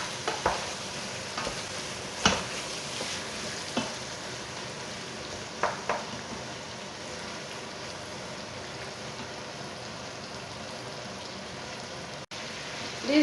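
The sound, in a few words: onions frying and being stirred with spices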